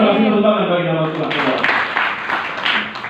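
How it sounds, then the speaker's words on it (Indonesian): A church congregation breaks into applause after first ringing out under a preacher's voice, with broadband clapping swelling in several bursts over the last half as the talk fades. "Kita kasih tepuk tangan bagi nama Tuhan."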